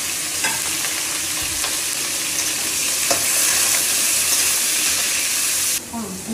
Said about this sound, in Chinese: 炒白菜木耳，煎炒肉。